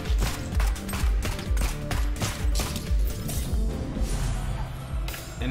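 Rapid, loud gunfire in Neon Abyss rattles on almost without a break for several seconds, with heavy thumping impacts mixed in.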